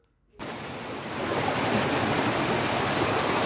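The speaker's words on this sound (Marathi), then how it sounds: "उंचीवरून पडणारा हा धबधबा धारेश्वर या नावाने ओळखला जातो" Dhareshwar waterfall, fed by a dozen small falls, pours off a Sahyadri cliff in a broad, steady roar of rushing water that starts abruptly and grows slightly louder, with no talk over it.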